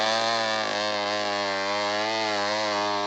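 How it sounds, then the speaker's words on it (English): A McCulloch Wildcat 18-inch gas chainsaw runs at a steady, buzzing high idle, loud and continuous, with a slight dip in pitch partway through and no voices. "A rugged McCulloch Wildcat 18-inch gas chainsaw"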